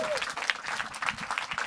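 Audience applause greeting comedy headliner Richard Stubbs at a live cafeteria comedy show, a steady crowd clapping that holds for the whole short stretch at moderate level.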